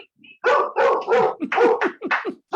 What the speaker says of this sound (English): It's my dogs. One's rather large, so she scares everybody when she barks.